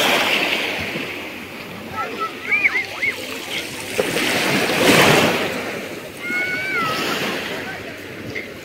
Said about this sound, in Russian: Ну, вот такое сегодня море, кстати.